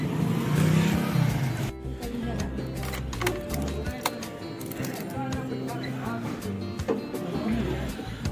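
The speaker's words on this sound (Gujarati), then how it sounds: "બાઇક લઈને હવે જઈએ।" A motorbike engine runs and pulls away on a road, its steady rumble and revving continuing throughout at moderate distance, with scattered clicks and street noise around it.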